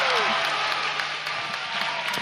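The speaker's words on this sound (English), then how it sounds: "you can see them just jumping up and down, cheering there." A crowd of spectators at a World of Warcraft Arena global invitational tournament final cheers and claps in a steady roar, loud and continuous throughout.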